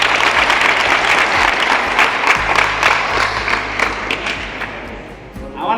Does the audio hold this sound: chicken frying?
no